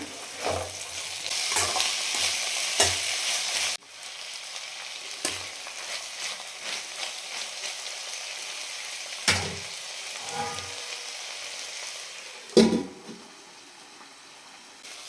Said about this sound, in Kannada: ಬೇಯಿಸಿರುವಂಥ ಬಟಾಣಿನೂ ಸೇರಿಸ್ಕೊಳ್ತೀನಿ ಚೆನ್ನಾಗಿ ಮಿಕ್ಸ್ ಮಾಡ್ಕೊಳ್ಳೋಣ